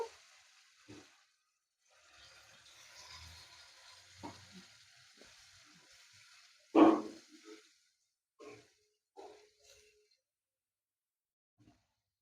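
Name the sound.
cabbage and yogurt mixture added to hot pan, sizzling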